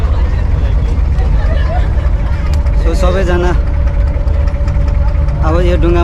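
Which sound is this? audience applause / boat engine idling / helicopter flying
boat engine idling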